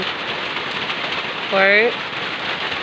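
Heavy rain pours down with a constant close hiss throughout, and a voice briefly speaks over it midway.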